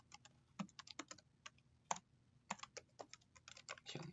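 Quick, irregular clicks of typing on a computer keyboard, close and fairly quiet, with bursts of keystrokes and brief pauses.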